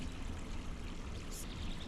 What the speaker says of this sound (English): there's a cute little stream here that I'm trying to show you